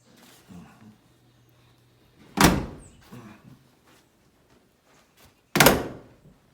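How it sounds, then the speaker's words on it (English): Two heavy, solid thunks of a car door shutting, spaced a few seconds apart, with softer handling clicks and faint background noise between them. "Doors sound like a vault. That's how they're supposed to sound"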